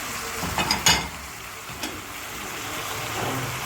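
Ground meat sizzles steadily in a pan, broken by a few sharp scraping clicks of a utensil as it is stirred while browning for Turkish karnıyarık; no voices.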